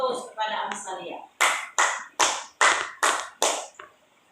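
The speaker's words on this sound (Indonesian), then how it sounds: "mari kita berikan aplaus kepada Amsalia" A classroom of students claps for a classmate, with a voice talking at first and then a series of about seven sharp, evenly spaced claps close by.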